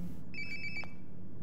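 A phone ringing in Life is Strange: Before the Storm: a short electronic ringtone trill over a low room hum, heard once, brief and clear, with no talk.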